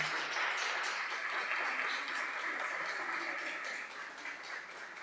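Church congregation at a Sunday service applauding to welcome visiting family members, a soft, steady patter of many hands heard from a distance and tapering off toward the end.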